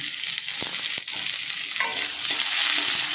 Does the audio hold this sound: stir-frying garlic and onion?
yes